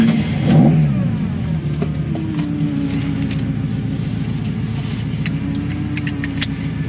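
A Ferrari 308's cold engine turns over and settles into a steady, rumbling idle that builds slightly as it pulls away, close and fairly loud.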